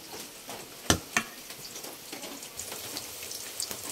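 Gentle sizzling and crackling of an eggplant omelette frying in oil, with a couple of sharper pops early on, steady and soft throughout.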